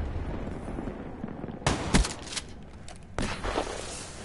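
Grenade launcher fire in Call of Duty 3, a multiplayer match: a sharp boom near 1.7 s with a few quick follow-up blasts, then another loud burst around 3.2 s, all over a constant rumbling battle backdrop.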